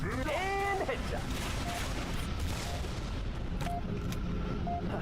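Gunfire in Halo 3 ODST on legendary difficulty, dense rapid shots and booms mixed with game effect tones, continuous and fairly loud throughout.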